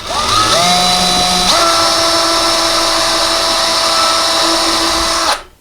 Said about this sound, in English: We drill a very small pilot hole in here so that the screw can screw into it.